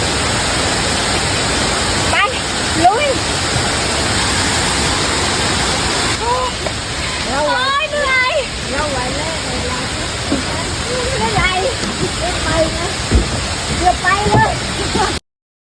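Huai Mae Khamin waterfall in Kanchanaburi, Thailand, roaring steadily as a loud, close, continuous rush of falling water, with a few brief voices in the middle.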